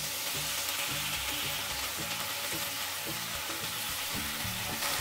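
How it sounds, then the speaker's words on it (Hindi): Fenugreek leaves hit hot oil with fried spices, giving a steady loud sizzle and crackle throughout, with stirring clatter from the pan in a home kitchen while Gobi Methi sabzi is being made. "अभी जो मेथी को क्लीन करके रखा था वो ऐड"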